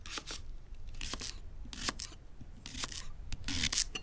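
Leeks being sliced with a knife on a board in a home kitchen, a series of soft crisp cuts and scrapes in an irregular rhythm, close and fairly quiet.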